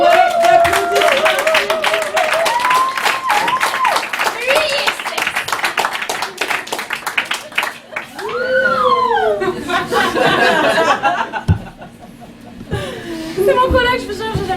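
Audience at a Montreal slam poetry session in a bar clapping and chuckling as a performer is invited to the mic, a host's voice speaking over the applause with laughter rising later.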